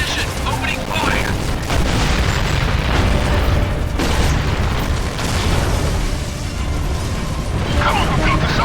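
In Gears of War 2, a Minotaur opens fire amid battle, with loud continuous booming blasts and heavy mechanical gunfire rumbling throughout, while radio voices talk over the barrage.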